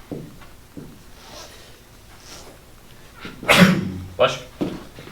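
A single sharp sneeze bursts out partway through, close and loud, amid quiet background voices and room noise in a geometry classroom.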